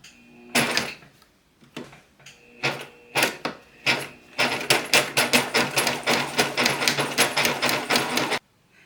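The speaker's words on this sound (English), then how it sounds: "Now I'm just going to use my edge stitching foot to stitch going all the way down." A sewing machine with an edge stitching foot stitches down a hem on a dust cover, first in short bursts with pauses, then a steady four-second run of rapid mechanical clatter, close and loud.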